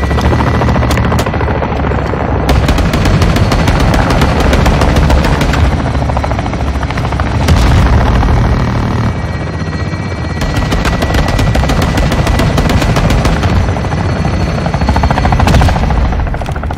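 Helicopter gunfire from a fire mission in Modern Warfare 2 roars continuously, a loud rotor drone layered with long bursts of heavy automatic fire and occasional booms, pausing briefly between strafing runs.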